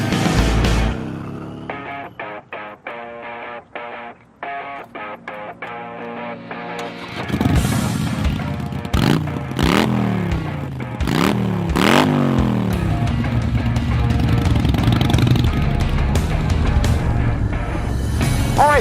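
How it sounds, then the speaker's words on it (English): A Harley-Davidson fitted with Vance & Hines Grenades exhaust idles with a loping, uneven rumble, then is revved hard several times, each throttle blip rising sharply and falling back, loud and close. "this bike is now wearing a set of Vance & Hines grenades"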